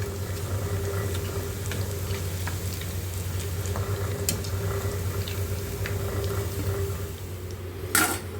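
Mushrooms deep-frying in hot oil for a roadside-style snack give a steady, dense bubbling sizzle that holds near and even throughout, with a brief sharp clatter near the end.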